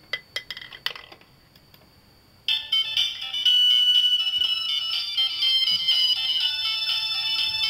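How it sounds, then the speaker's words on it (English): A hard drive's read arm, driven as a speaker, plays music: a few light clicks and taps come first, then thin, tinny, high-pitched music starts abruptly and keeps going steadily, with no voices. "the arm here will start to move, and it will vibrate with the frequencies from the music."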